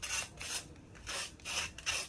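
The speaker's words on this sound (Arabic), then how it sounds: "سامعين بقى الصوت؟ قرمشه من بره وطري من جوه، تحفه." Crispy toasted hawawshi sandwich bread, a meatless fasting version, is crunched in several quick rhythmic bursts. The crackle is quiet and nearby, with brief gaps between the crunches and no voices.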